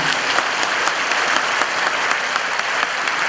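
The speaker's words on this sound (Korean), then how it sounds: "뜨거운 박수로 우리 선교사님을 맞이하도록 하겠습니다" A packed hall of around 3,000 worshippers gives dense, steady applause to welcome a missionary at a church gathering, loud and continuous throughout.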